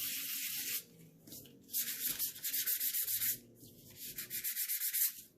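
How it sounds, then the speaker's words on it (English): Repeated rasping strokes of sandpaper rubbing along inked junk journal paper edges, in short rhythmic bursts with brief pauses between, close and fairly loud. "And that was just a little bit of sanding."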